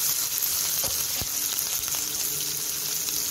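Chopped ginger and green chilli fry in hot oil for a samosa filling, a close, continuous sizzle with a couple of sharp pops and light stirring.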